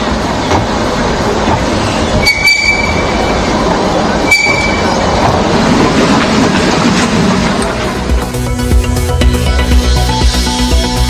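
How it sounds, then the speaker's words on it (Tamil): The Mettupalayam to Ooty mountain train runs loudly and close, with steady rumbling, clattering wheels and two sharp metallic squeals, heard without voices. "மேட்டுப்பாளையத்திலிருந்து உதகைக்கு 4 நாட்களுக்கு பிறகு மலை ரயில் இயக்கம்."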